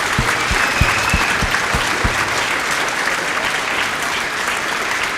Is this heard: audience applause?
yes